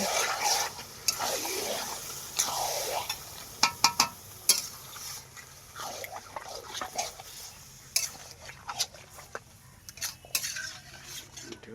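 Green chicken sautéing in a pan while being stirred, with repeated scraping strokes and sharp clinks of a spoon against the pan over a soft sizzle, close and uneven in rhythm.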